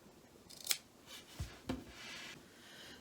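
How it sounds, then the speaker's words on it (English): Sharp scissors snip off the folded corner of fabric for a sewn drawstring bag, a few crisp close cuts spaced apart in a quiet room, with faint handling rustle between them. "I'm going to just snip a little bit off of here"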